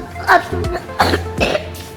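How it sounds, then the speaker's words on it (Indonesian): A person coughs a few times in quick bursts, close and fairly loud, at a Novotel hotel in Palembang, with a little background chatter. "aku lagi batuk"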